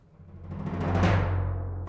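A short percussion roll that builds quickly in loudness and sustains for about a second, with a low droning tone underneath and no speech.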